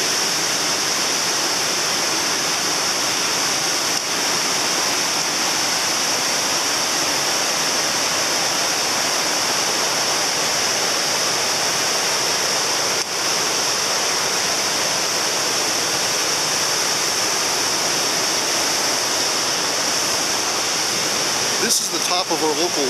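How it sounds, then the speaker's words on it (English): The top of a local waterfall running high after heavy rain roars in a loud, steady, unbroken rush of water, heard up close with no pauses and no voices over it. "This is the top of our local waterfalls that we have here. They're quite aggressive right now because of all the rain we've had."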